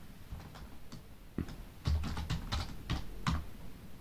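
Someone types into a spreadsheet cell on a computer keyboard: soft, irregular keystroke clicks in short bursts, close and fairly quiet, with no talking.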